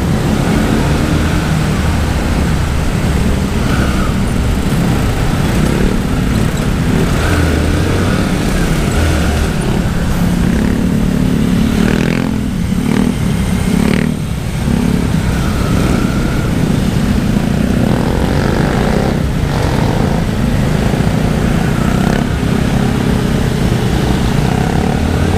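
A motorcycle engine drones loud and close throughout a ride in traffic, with a steady rumble and rushing wind that never lets up.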